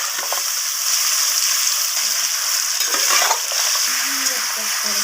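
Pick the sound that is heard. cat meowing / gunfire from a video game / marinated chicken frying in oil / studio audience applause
marinated chicken frying in oil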